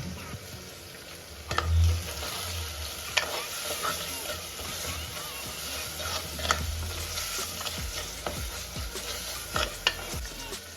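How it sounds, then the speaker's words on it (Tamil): Soft continuous sizzling of paste frying in a pan, with occasional spoon scrapes and clicks, close and moderately quiet. "இஞ்சி பூண்டு பேஸ்ட்டு போடுறோம்"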